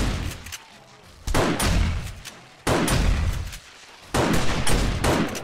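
Bursts of gunfire in the zombie survival game 7 Days to Die: four loud, abrupt volleys of shots, each sustained for about a second with quieter gaps between.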